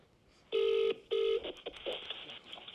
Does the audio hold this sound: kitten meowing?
no